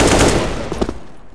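Rapid automatic gunfire in CS:GO, a loud, close burst of dense shots that thins into a few scattered single shots and fades within a second and a half.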